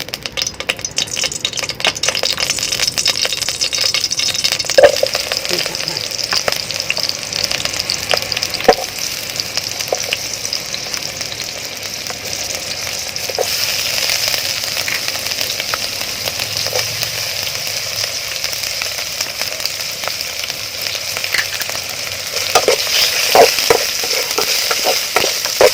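Aromatics fry in a modest amount of hot fat in a pot for a beef sour soup, giving a steady close sizzle with scattered crackles and stirring scrapes, loud and continuous without voices.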